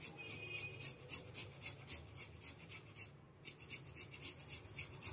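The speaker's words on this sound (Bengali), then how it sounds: "প্রথমে আদাটা এইভাবে আমি ঘষে নেব।" Fresh ginger is rubbed against a grater in quick, even back-and-forth strokes, a quiet rhythmic rasp repeating about ten times with a brief pause midway.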